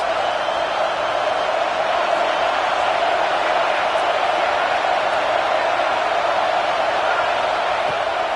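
Stadium crowd noise in a college football video game, a steady continuous roar that holds evenly throughout with no distinct peaks or breaks.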